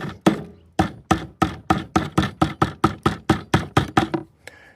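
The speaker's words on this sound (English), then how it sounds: "you can take this by knocking it off of the frame" A paint roller cover is knocked off its frame with a series of about fifteen sharp, evenly spaced knocks, loud and close, ending in a brief quieter scrape.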